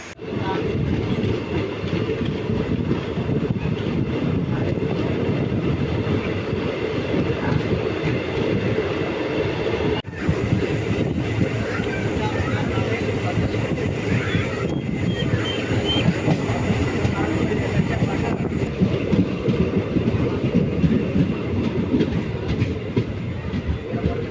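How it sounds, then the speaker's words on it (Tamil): An Indian passenger express train hauled by a WAP4 electric locomotive rolls along with steady rumbling and rhythmic clickety-clack of wheels on rails, heard from on board, loud and continuous. "அரக்கோணம் லோகோ ஷெட்டுடைய WAP4 தான் நம்ம ட்ரெயினை SMVTலேருந்து புல் பண்ணிட்டு வந்திருக்கு"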